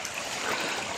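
Water falls steadily in a forest waterfall, a continuous rushing wash that stays even and fairly close throughout with no talk.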